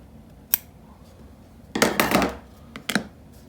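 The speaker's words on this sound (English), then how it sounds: "just take a pair of scissors. I just cut the extra off" Scissors trim excess paper from the base of a 1/2400 scale Bismarck model ship, a short snip, then a longer cutting stretch and two quick closing snips, close and alone.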